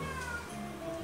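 A cat gives a drawn-out meow indoors in a studio, a single wavering call heard close over a steady background hum.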